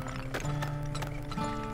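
Horse hooves clip-clop in the mining game Turmoil, a few quick, close clopping beats within a brief busy stretch of game sound.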